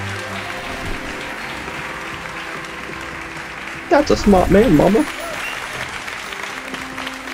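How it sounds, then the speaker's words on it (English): A crowd in the Hogwarts Legacy video game applauds and cheers steadily after a student is sorted into Ravenclaw, with the clapping filling the whole stretch and a voice speaking loudly over it midway. "And the crowd goes wild!"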